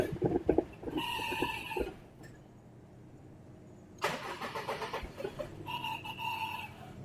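A car's starter motor cranks the engine in two bursts of rapid whirring and chugging, separated by a quiet gap, with a faulty, harsh and uneven grind.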